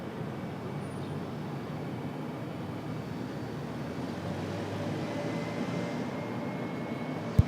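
An airplane takes off from runway 23 left at Raleigh-Durham International, a steady broadband engine roar heard from a distance, evenly sustained throughout.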